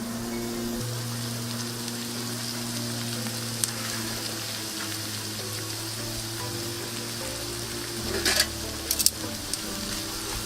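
Thinly sliced onion and cabbage frying in olive oil in a pan, a steady soft sizzle over a low background hum, with a few clicks and clatters near the end.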